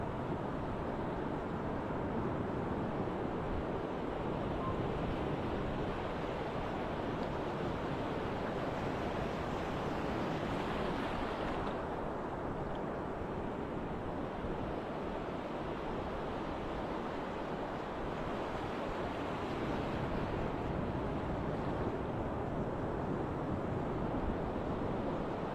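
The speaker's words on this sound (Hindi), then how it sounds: "समुद्र की लहरों को सुनिए" Sea waves wash in a continuous broad roar, with steady surf and wind noise filling the scene and no talk.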